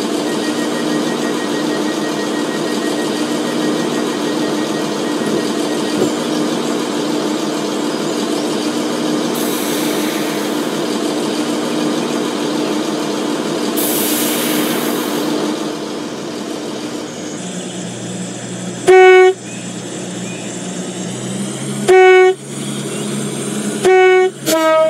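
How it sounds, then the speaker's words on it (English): A regional train standing at a station platform, its engine idling in a steady hum, then a series of loud two-tone horn blasts sounding near the end. "Train now standing at platform 1 is the 1920 regional service to Victoria Harbour."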